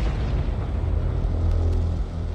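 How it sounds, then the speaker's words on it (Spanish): A car bomb of homemade explosives detonates beside the government buildings in central Oslo, heard as a sustained, loud, low rumbling roar that fills the whole stretch with no voices. "Johan Tamberg se ve atrapado en la explosión"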